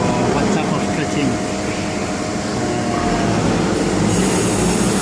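A flatbed CNC cutting machine running in a workshop, giving a loud, steady, continuous mechanical roar and whir with no break.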